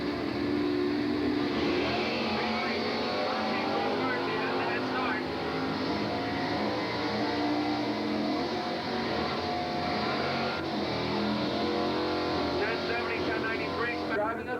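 A 455 Pontiac Firebird drag races at Englishtown, a loud, sustained roaring engine with shifting revving tones, heard under an announcer's talk.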